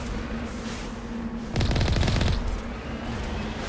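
Turrets in the video game Mass Effect fire a rapid burst of automatic gunfire lasting under a second, loud and rattling over a steady background hum.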